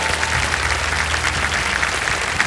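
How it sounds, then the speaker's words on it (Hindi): Steady applause from a studio audience at an Indian TV game show as a contestant quits with a 25 lakh rupee win, a dense even roar of clapping held throughout. "एक बार तालियां बज जाएं इनके लिए।"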